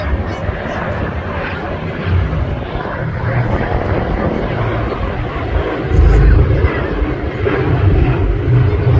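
Propeller aircraft engines drone steadily at the Headcorn Battle of Britain air show, a loud continuous roar that swells toward the end.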